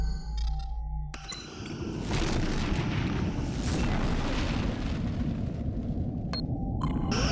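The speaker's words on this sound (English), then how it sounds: "Photon torpedoes ready." Photon torpedoes launching in Star Trek Legacy: a sharp electronic onset gives way to a sustained, dense booming roar of space combat, with a brief high blip near the end.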